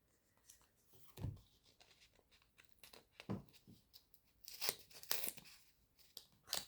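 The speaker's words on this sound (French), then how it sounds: "je vais couper délicatement avec mes doigts parce que j'ai pas de ciseaux" Paper being torn slowly by hand rather than cut with scissors, heard as a series of separate rips and crinkles with brief pauses between them, close and fairly quiet, with no talking.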